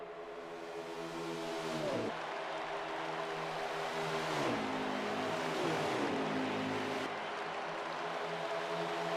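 Race cars lapping in a CRL Cup Series video game race, several engines in tight pack climbing in pitch, dropping at each shift around 2, 4.5 and 6 seconds, then pulling up again; loud, continuous revving.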